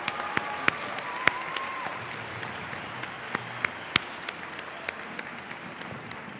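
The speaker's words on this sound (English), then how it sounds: "Let's give her a big round of applause." Audience applause at the All-Philadelphia High School Music Festival concert, a steady wash of many hands clapping with a few sharp, louder claps standing out, filling the hall at moderate volume with no talk.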